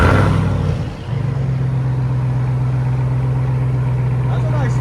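A 2022 RAM TRX with a Cornerstone muffler delete fires up loudly, dips briefly, then settles into a deep, steady rumbling idle that holds close and strong for several seconds.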